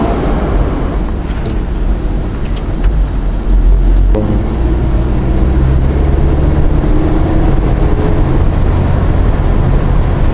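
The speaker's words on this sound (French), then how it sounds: "En vrai, le pot est sympa, l'échappement est sympa. Ouais, et là on est qu'à 2500 tours minute." A sports car's engine and exhaust hold a steady 2500 rpm, giving a continuous, fairly loud low drone and rumble that runs throughout with no talking.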